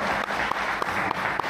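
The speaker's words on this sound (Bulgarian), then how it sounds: "Дайте ни аплодисменти." Applause from an audience in a hall at the GFest 2024 festival, a steady wash of clapping with a few sharper individual claps poking through over about a second and a half.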